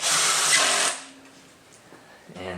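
M8 bolts on a Vagabond Motorsports cargo rack for a 2017-2021 Honda Grom being tightened with a power tool, one loud whirring burst close by, a pause, then a brief restart.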